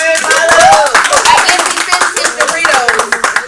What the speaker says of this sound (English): We clap it up for your 3 truths.